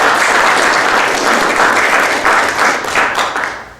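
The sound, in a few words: applause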